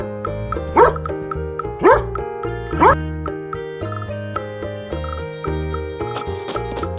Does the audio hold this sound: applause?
no